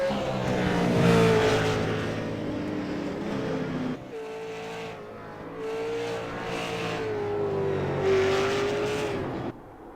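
A super late model race car runs at the Milwaukee Mile, its loud engine droning steadily and shifting pitch as it passes close by, with a brief dip partway through before the roar swells again.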